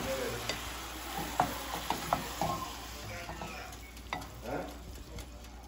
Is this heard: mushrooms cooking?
yes